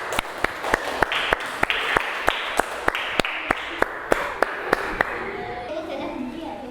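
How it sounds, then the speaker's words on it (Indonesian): A classroom group claps together in a steady rhythm, roughly four sharp claps per second for about five seconds, with voices talking underneath and continuing after the clapping stops. "Tepuk tangan untuk kita semuanya."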